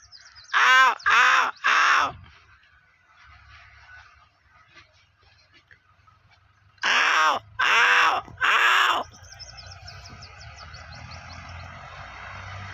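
At evening, a human voice imitates crows with two bursts of three loud, evenly spaced caws, separated by a quiet stretch of faint outdoor birdsong.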